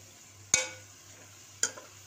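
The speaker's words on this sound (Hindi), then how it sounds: "अब इनको अच्छी तरह मिक्स कर दूँगी" A spoon scrapes twice through tinda seeds and vegetables in a pan, two sharp strokes about a second apart over a faint low sizzle.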